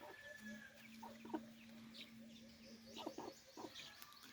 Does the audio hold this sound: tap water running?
no